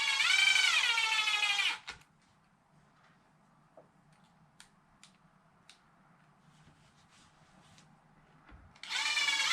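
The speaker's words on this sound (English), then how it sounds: "Now it's a matter of getting all these screws put back in." A small electric screwdriver whirs in two bursts, at the start and again near the end, driving screws back into an Arrma RC car chassis. Faint ticks and handling clicks fill the quiet gap between them.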